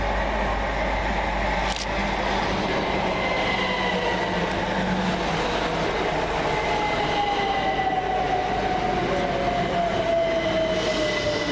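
A Greater Anglia Class 379 electric train moves through Tottenham Hale station with a continuous rumble of wheels on rail, rising and falling whines, and a gliding squeal toward the end.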